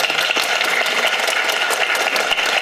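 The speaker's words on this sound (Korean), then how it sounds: "박수를 쳐주시긴 했는데" University students in a Suwon lecture hall at Kyonggi University applaud together, a dense, loud and even burst of clapping that fills the whole moment without any voices over it.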